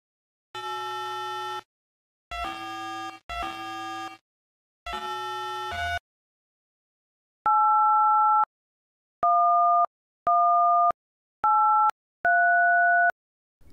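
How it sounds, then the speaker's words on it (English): Four short buzzy synthesized notes from a video game Game Over theme are followed by five clean dual-tone telephone keypad beeps of uneven length, each separated by brief silences. "Dual Tone Multi-Frequency inside, which is the sounds each number makes when you press them on your phone, and they generate very specific hertz"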